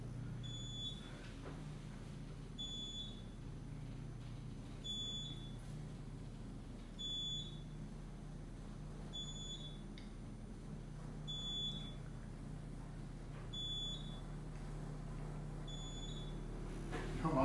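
A high, repeating fire alarm beep chirps at steady intervals of about two seconds over a constant low mechanical hum inside a moving Otis service elevator in a Chicago hotel.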